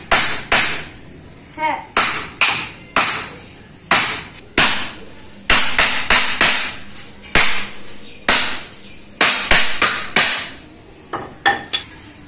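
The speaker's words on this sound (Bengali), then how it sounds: "কার্তিকেরও এই পেরেক পুঁতে নিতে হবে প্রথমে" Nails are hammered into the frame of a Kartik idol with loud, sharp, close strikes in uneven runs of two to four blows and brief pauses between them.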